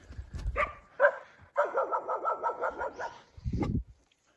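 A dog barks and yips, then lets out a rapid string of barks before a final deeper bark; close by and loud, with no speech.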